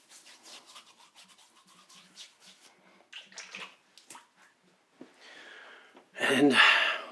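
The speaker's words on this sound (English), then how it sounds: "And a little bit of water on top of that." Water splashes briefly into a shaving bowl of lather near the end, a short close burst following a stretch of quiet speech.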